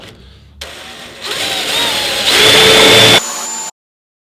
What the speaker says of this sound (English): now I'm going to start drilling out the spot welds.